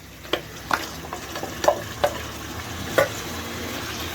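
Tomato stirred and frying in a pan of oil for a baby corn gravy, a soft steady sizzle broken by several light scraping stir strokes, close and fairly quiet.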